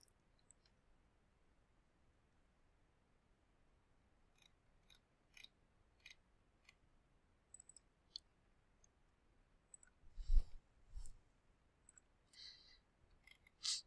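Computer mouse clicks come as sharp, faint, isolated taps spread across a quiet room, a few falling in quick pairs, with one slightly louder bump near the end.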